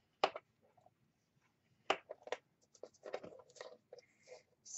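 A tool scores a line into paper at a half-inch mark while making a purse: quiet, close scratchy strokes in short bursts with pauses between them.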